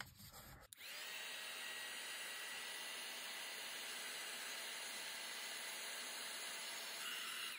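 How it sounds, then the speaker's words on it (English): A heat tool blows hot air over embossing powder on a stencilled craft project, a steady close whooshing fan hiss running continuously after a brief click at the start. "So I'm going to give it a quick burst with my heat tool, just to make sure that the embossing powder doesn't stick"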